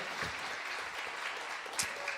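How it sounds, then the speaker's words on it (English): Applause from a live music show audience honoring performers, a steady, moderately distant wash of clapping at low level that lasts throughout. "Give them another round of applause"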